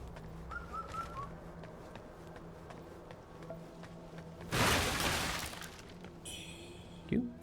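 Birds call repeatedly in Wuchang: Fallen Feathers, high chirps and whistles over a quiet ambient bed. A burst of loud crashing noise cuts in midway, and sharp clatters come near the end.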